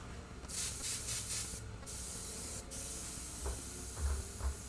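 An airbrush sprays Createx paint in a steady hiss, broken by a few short bursts where the spray starts and stops, close and fairly quiet with no talk over it.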